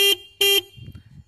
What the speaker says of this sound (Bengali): এখানে আছে হর্নের আওয়াজটা শুনে নাও।